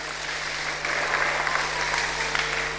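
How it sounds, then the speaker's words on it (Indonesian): Sustained applause from a congregation at a church service, a dense steady wash of clapping with a faint low hum underneath and no voices over it. "Yang setuju berikan tepuk tangan yang meriah."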